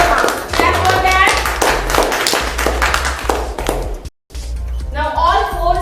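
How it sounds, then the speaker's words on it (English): Young schoolchildren in a classroom clapping for a classmate, a loud, fast run of claps with children's voices over it, a brief dropout, then chatter. "Clap for that."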